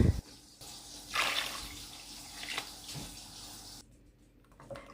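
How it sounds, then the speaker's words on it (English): Water splashes and pours in short bursts from a large 4-cup measuring cup into a gumbo pot, with pauses between pours and faint clatter in a quiet kitchen. "Next, I'm going to need to add 12 cups of water."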